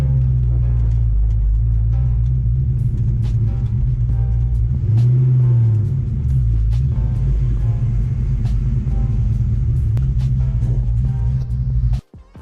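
A Ford Fox Body Mustang with a coolant leak rumbles as it is driven indoors, its low engine drone steady and close with a brief rev midway before cutting off at the end.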